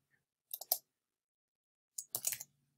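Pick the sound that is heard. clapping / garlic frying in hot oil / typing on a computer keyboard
typing on a computer keyboard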